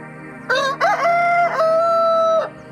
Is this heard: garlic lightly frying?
no